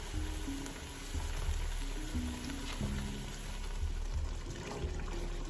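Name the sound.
masala frying in a pan for saag gosht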